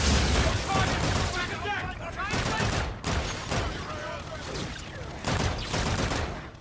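Heavy, continuous gunfire and energy weapon bursts from Call of Duty: Infinite Warfare roar through most of the stretch in repeated loud waves, with blasts and faint game voices mixed in.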